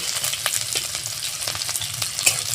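Chopped chili, garlic, onion and black cumin fry in a pan for a semolina dosa filling, a continuous close sizzle broken by small pops and crackles as it is stirred.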